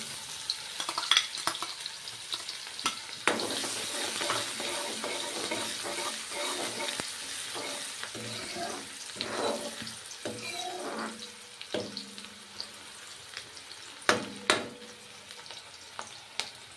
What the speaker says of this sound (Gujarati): તો ડુંગળીને આપણે ગોલ્ડન બ્રાઉન કરવાની છે